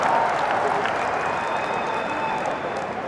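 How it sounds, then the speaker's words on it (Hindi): A crowd at a political rally claps and applauds, a dense, loud patter of many hands that holds steady and eases slightly toward the end, with voices mixed faintly into it. "ठोको ठोको ताली ठोको"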